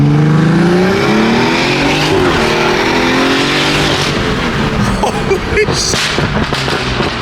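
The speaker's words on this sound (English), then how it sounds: "that was a second to third gear pull" An 800 whp BMW B58-powered car pulls hard from second into third gear on a wet road, a loud close engine note climbing steadily, then breaking into a brief shift and rougher, crackling revs.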